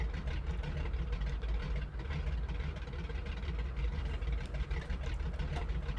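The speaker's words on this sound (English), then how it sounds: "We're still getting some from the actual engines here" Floatplane engines idle in Microsoft Flight Simulator 2020, a steady, continuous droning rumble with no talk over it.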